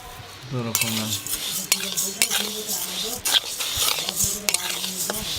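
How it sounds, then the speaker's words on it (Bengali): Masoor and moong dal roasting dry in a pan, stirred with a metal spatula that rattles and scrapes in quick repeated strokes, close and busy, with a voice briefly audible at the start. "সবজি ভাজার আগে দুরকম ডাল কোঁড়াতে একটু ভালো করে নেড়ে নেব মুসুরির ডাল মুগের ডাল"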